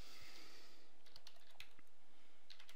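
Keys clatter on a computer keyboard in a short burst of typing, with light irregular clicks close by and no one talking.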